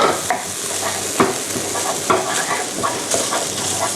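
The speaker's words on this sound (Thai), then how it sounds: "แล้วก็อิตาเลียนซอสเซจ ลงไปยีรวน ให้เข้ากัน" Italian sausage stir-fried in a pan, with a steady sizzle broken by repeated scraping strokes of a utensil at an irregular rhythm, close and fairly loud, no talk.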